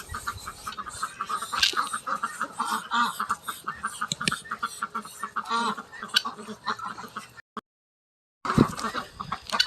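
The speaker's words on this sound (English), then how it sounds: "quack, quack, duck, ducks. Lots of them." Ducks quack in a busy farmyard, many birds calling at once in an irregular stream at close range, with chickens or other livestock mixed in; the calls break off for about a second near the end and then resume.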